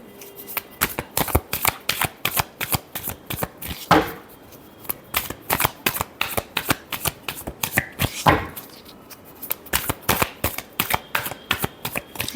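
Tarot cards are riffled and shuffled by hand in quick, crisp bursts of flapping clicks, steady and close, with two short pauses where the deck is squared up.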